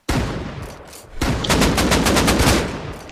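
Gunfire in the survival video game Rust, a single sharp shot followed by a rapid burst of repeated automatic shots, loud and close with no talking.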